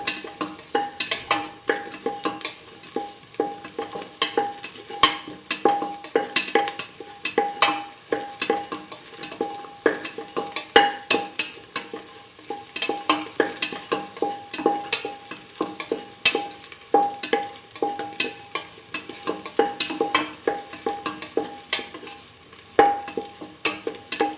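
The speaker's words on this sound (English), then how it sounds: "Keep on sauteing." Lentil and potato stew sautéing in a pot, with steady scraping stirs and a continuous sizzle running throughout, close and moderately loud, no talking.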